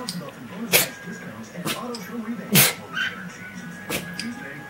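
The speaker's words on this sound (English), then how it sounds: "Come on, you can sneeze." A dog gives about four short, sharp sneezes spaced across a few seconds, close by and fairly clear over a low background hum.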